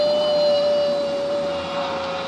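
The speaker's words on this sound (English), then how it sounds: "Jumbo jet, you can go crash into a mountain over there." A jumbo jet flies overhead in a loud, steady engine roar with a constant high whine running through it, close and unbroken, with no talking.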